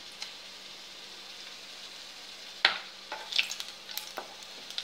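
Whole cloves and cardamom spluttering in hot oil, a faint steady sizzle broken by a few sharp crackles and pops toward the end, close and quiet.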